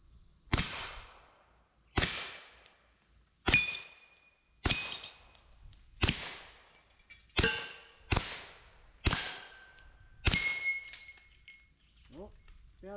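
Nine evenly spaced suppressed shots from a Springfield Armory Echelon pistol fired outdoors, each a sharp crack with a quick ringing decay, steady rhythm at roughly one shot every one to two seconds, no talking.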